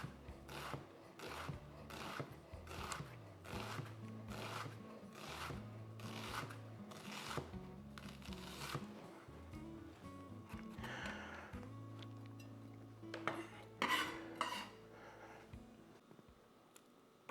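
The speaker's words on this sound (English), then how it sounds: "I'm going to cut up this onion and garlic and get all this ready" A kitchen knife chopping fresh onion and garlic on a cutting board, heard as a run of sharp, regular chops close by, alone with no talking.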